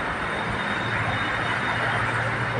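BTS Silom Line skytrain moving through a Bangkok station at platform 3, a steady loud broadband rumble with low mechanical hum and a faint whine, continuous throughout and nearby, with no talk.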